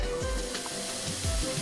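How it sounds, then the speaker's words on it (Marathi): Tadka of coconut oil, curry leaves and mustard seeds sizzling in a pan, a brief close hissing fry with a few soft crackles. "आता जरा तडकाचा आवाज होय येतो."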